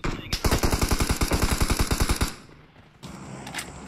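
A long automatic burst of rapid, evenly spaced gunshots from PUBG Mobile rattles loud and close for about two seconds, then cuts off and leaves a quieter background hum.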